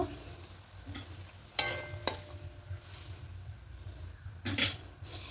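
Eggs and green chillies frying in a pan: a quiet, soft sizzle broken by a few sharp metallic clanks of utensil on pan, with a low fan-like hum beneath and no voices.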